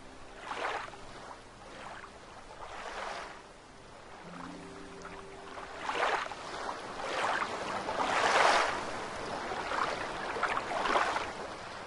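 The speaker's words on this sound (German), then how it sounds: "jetzt wird's wieder laut vom Wasser her." Water in the video game Gothic 2 sloshes and washes in repeated soft surges, like waves lapping, steady and moderately loud with no talking.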